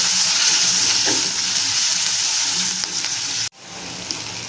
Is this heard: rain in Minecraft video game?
no